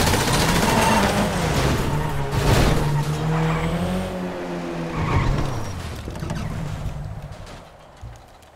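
A car skids with loud, sustained tire squeal rising and bending in pitch, close and harsh, then fading away near the end.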